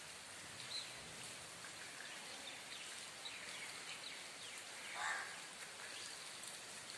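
Steady rain falls outdoors in an even, continuous hiss, with no voices and a faint brief call partway through.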